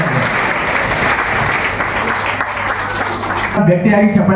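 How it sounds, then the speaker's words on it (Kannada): Loud applause from a crowd at a ladies' self help group awareness program, steady dense clapping filling most of the clip before a voice begins speaking near the end. "ಈಗ ಎಲ್ಲರೂ ಗಟ್ಟಿಯಾಗಿ ಚಪ್ಪಾಳೆ"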